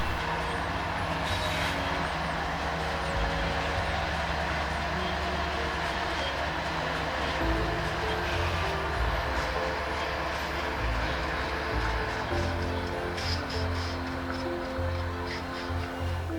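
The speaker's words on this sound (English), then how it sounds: "some engines would start moving around the diesel facility" Diesel locomotives shift around a rail yard at a diesel facility in Central Kansas, with a constant low engine rumble and drone under faint metallic clanks and squeals, heard at a moderate distance without voices.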